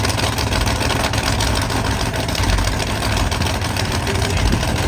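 A monster truck engine idles at a 2024 monster truck nationals event, a steady, loud, low rumble that continues without a break from start to end.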